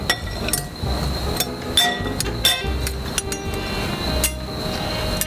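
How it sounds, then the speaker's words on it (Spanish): Celery, red onion, feta and mint salad ingredients tossed in a bowl, with sharp close clinks and taps of a utensil against the bowl recurring every fraction of a second over a steady background hum. "Y entonces mezclo bien mis ingredientes."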